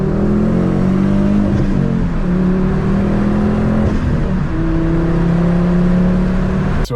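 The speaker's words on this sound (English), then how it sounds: "no 1st gear pulls here, just strongly 2nd gear ones." Revo stage 2 tuned Ford Focus ST225 pulling hard in second gear, a loud, steady engine drone that climbs in pitch through the revs, dips briefly at a shift around the middle, then climbs again, heard close from inside the car.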